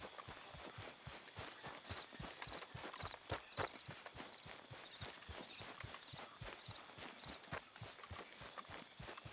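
A horse walks along in Red Dead Redemption 2, its hooves clip-clopping in a brisk, even rhythm, close and clear, with a few faint jingles over the steady steps.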